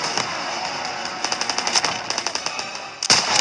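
Rapid automatic gunfire from the World War II shooter Call of Duty WWII, with a loud run of evenly spaced shots in the middle and a sharper blast near the end over a constant battle rumble.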